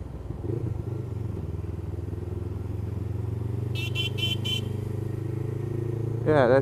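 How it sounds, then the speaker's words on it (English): A weak, reedy car horn honks in three short bursts, then once more briefly at the end, over a steady engine hum in traffic. "Actually, my horn is so rubbish. It's terrible. Sounds like a dying duck."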